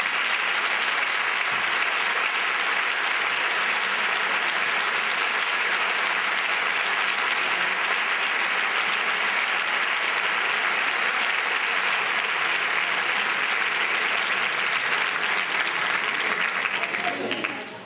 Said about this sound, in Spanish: este aplauso que vaya para ellos, para los espaciales